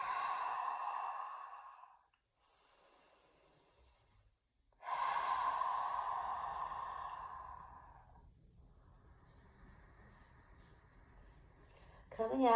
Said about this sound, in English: let's let go with those exhales out the mouth.